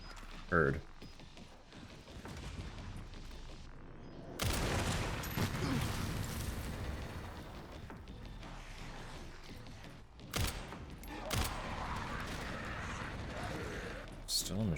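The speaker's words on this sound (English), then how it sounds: "Still a machine gun up there somewhere." Video game gunfire, with bursts of shots at a distance and a couple of louder close reports, sounding over steady background noise while someone talks through much of it.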